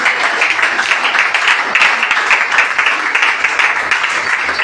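A church congregation clapping for Jesus, dense and loud, sustained evenly from start to finish without pause.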